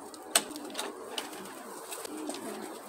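A male breeding pigeon of the Van der Wouwer line coos close by in a loft, soft throaty calls with a sharp click or wing sound near the start, alone without talk.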